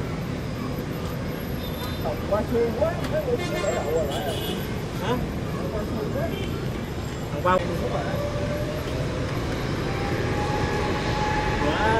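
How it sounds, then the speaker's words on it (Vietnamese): A jet airliner takes off from Tan Son Nhat airport in Saigon, its engine roar a broad steady rumble heard from a distance, mixed with nearby traffic and background chatter. "Mời mọi người chiêm ngưỡng pha cất cánh của chiếc máy bay này nha."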